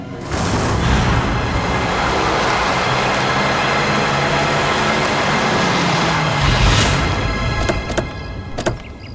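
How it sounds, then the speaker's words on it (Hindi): A car being driven fast gives a loud, steady roar of engine and road noise that holds for about eight seconds, then eases off with a few sharp knocks near the end. "इतना फास्ट गाड़ी चलाता है"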